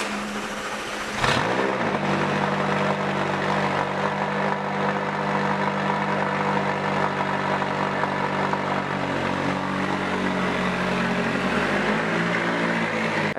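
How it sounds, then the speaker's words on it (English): A convertible supercar with a sports exhaust system and stealth pack fires up with a sharp, loud bark, then holds a close, sustained, rumbling exhaust drone that slowly shifts in pitch with no voices over it. "Sports exhaust system sounds insane."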